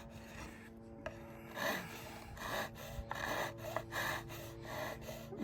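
A luthier files a guitar string slot at the nut with a flat file, using the slot's sidewall as a guide: a quiet run of close rasping strokes, short and regular, with faint breathing between them.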